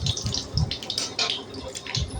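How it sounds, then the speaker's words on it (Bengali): Black cumin and a dried red chilli fry as a tempering in hot oil, giving a steady, close sizzling hiss with soft crackling pulses throughout. "ফোড়নটা একটু ভেজে নেব।"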